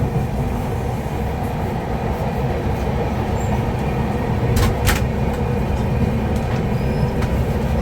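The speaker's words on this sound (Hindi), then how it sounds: "दोस्तों यहाँ देख लो हम लोग टुंडला जंक्शन को स्किप कर रहे हैं" The 12310 Rajdhani Express from Delhi to Patna runs through Tundla junction, its steady, loud rolling rumble and rail clatter heard from on board, with a couple of brief sharp clicks partway through.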